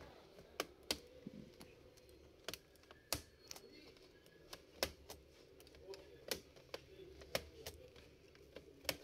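Laptop keyboard locks being released, heard as a series of sharp, quiet clicks spaced unevenly over a low background hum.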